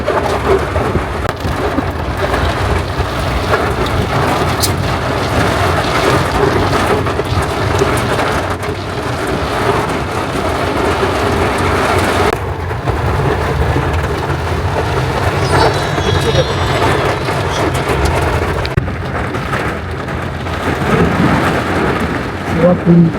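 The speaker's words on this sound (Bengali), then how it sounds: "এই বৃষ্টি শুরু হয়ে গেছে কিন্তু গায়ে পড়ছে।" Steady heavy rain pours outdoors while deep thunder rumbles roll through it, a dense, continuous wash with no break across the whole stretch.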